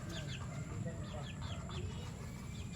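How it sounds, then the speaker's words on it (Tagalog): A Kanawayon hen gives soft repeated clucks, faint and a little distant over steady farmyard background noise. "Ito yung isa nating hen na kanawayon"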